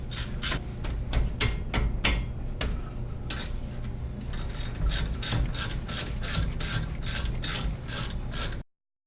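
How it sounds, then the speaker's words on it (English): A ratchet with a 7mm Allen socket clicks in quick bursts while loosening the brake caliper pins on a BMW E92 M3. The bursts are loud and close, with short pauses between them. "grab your ratchet and 7mm Allen wrench and open the"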